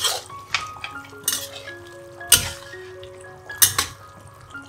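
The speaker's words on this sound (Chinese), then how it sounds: "再放入酱油，炒一炒。" Vegetarian rice noodles stir-fried with soy sauce in a pan, with a low sizzle under repeated metal clinks and scrapes of a utensil against the pan in irregular bursts.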